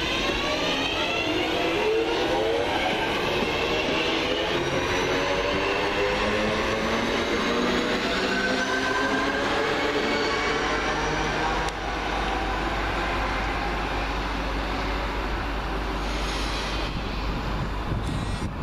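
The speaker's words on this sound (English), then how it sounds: "323-230 with the 1357 Northern Rail service from Manchester Airport to Manchester Piccadilly." A Northern Rail Class 323 electric train on the Manchester Airport to Piccadilly service passing through East Didsbury, a long, loud, steady rumble with a rising and falling electric whine, close by throughout.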